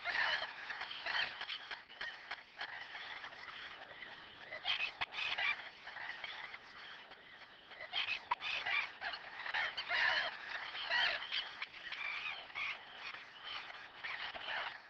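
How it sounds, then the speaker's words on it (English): Wetland at dawn with grey herons and gulls calling, a dense, continuous chorus of croaking and harsh cries rising and falling without pause, fairly close and steady, with no voices. "The watery landscape awakens to a new day, with the calls of grey herons, the cries of gulls"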